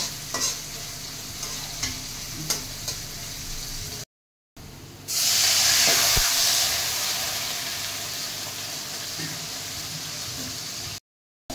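Onions frying in a pan with bay leaf, cardamom and cinnamon for a chicken curry, a steady close sizzle with stirring scrapes, a brief gap, then a louder hissing burst that settles back to even frying.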